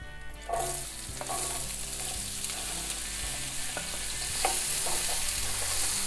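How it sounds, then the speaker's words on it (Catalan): Two large onions, one sweet and one from Figueres, fry in duck fat in a pan for duck à l'orange, a steady hissing sizzle after they drop in, with occasional spoon knocks and stirring, close and without voices. "Anem a tirar-hi doncs la ceba."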